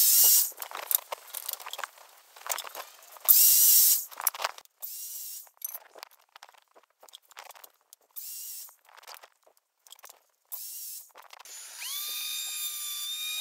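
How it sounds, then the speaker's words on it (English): A wood planer runs pieces of board through at a low feed speed, making repeated loud bursts of harsh, hissing cutting noise separated by quieter gaps. A steady high whine takes over near the end. "Here I'm just running all those pieces through my planer, and I got my feed speed set low"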